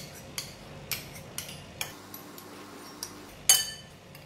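A utensil clinks against a glass bowl while a sauce of water, pepper, sesame oil, light soy sauce, cooking rice wine and oyster sauce is mixed, a series of sharp, light, close taps spaced out with one louder knock near the end.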